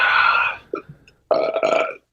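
A man drinking champagne lets out loud, drawn-out burps: a long rumbling belch, a couple of small hiccuping sounds, then another lengthy, rough burp close to the microphone.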